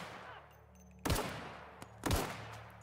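Gunfire in The Outer Worlds: two sharp, loud shots about a second apart, each ringing briefly, over a quiet low background hum, with no talking.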